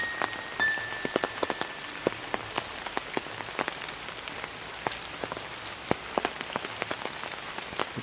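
Rain falling among wild overgrown plants and bamboo near an abandoned house, a steady soft patter with many distinct close drops tapping irregularly, no voices.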